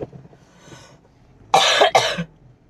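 Two sharp, loud coughs in quick succession after a moment of quiet background.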